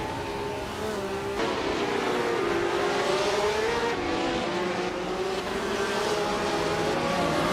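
Race cars roaring in a racing video game, engines droning loudly and continuously with rising and falling pitch as cars rev and jostle for position, an occasional tire squeal mixed in.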